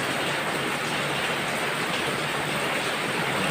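Steady rain pours down in Manila in a dense, even hiss with no pauses and no voices.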